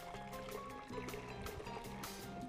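Water from a tap pours steadily into a blender jar used for a fried tilapia seasoning mix, a continuous close trickle and splash with no talking.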